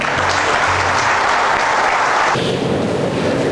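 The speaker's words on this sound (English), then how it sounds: "Can we have a big round of applause, please?" An auditorium audience gives a loud, continuous round of applause at a corporate leadership programme, a dense crowd roar that drops slightly in intensity partway through.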